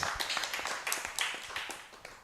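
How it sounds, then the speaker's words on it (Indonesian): Small audience at a Banyuwangi talk show applauding, fairly quiet scattered hand claps in an uneven rhythm that thin out and fade toward the end. "Sekali lagi tepuk tangan yang meriah untuk kita semuanya."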